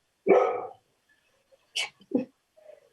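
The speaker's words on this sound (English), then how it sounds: "Sorry, dogs got all excited for my break." A few sharp dog barks at a home during a remote school committee meeting: one loud bark, then two shorter ones after a pause, and a faint final yelp, close to the microphone.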